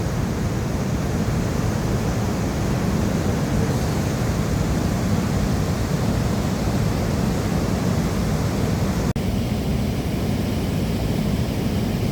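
Floodwater surges over a bridge in Blitar as a loud, constant roar of rushing water, dense and unbroken for the whole stretch, with no voices.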